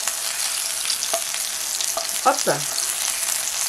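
Steady, bright sizzling of an Italian-style croque monsieur sandwich frying in a hot pan, with a few soft clinks of a utensil and a brief spoken word.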